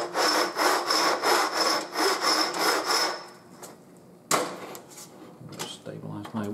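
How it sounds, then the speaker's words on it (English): A metal file working a notch into a monitor hinge part, started in a saw cut: about eight rhythmic rasping strokes, close and loud, then quieter scraping and a sharp knock. "I put the corner of the file into that saw cut, and I'm gradually rotating the file down as I'm doing the filing."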